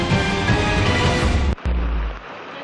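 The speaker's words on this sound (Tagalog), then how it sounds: "Humahagupit ang hangin at bumubuhos ang malakas na ulan" Loud, steady rush of heavy storm rain and gusting wind in Rodriguez, Rizal, broad and continuous, briefly cutting out before resuming more softly.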